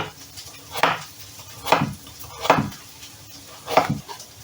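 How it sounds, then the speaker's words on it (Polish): A knife slices carrots against a board four times at an even, unhurried pace, each cut a short sharp knock, with quiet kitchen sounds in between. "I kroimy takie plasterki."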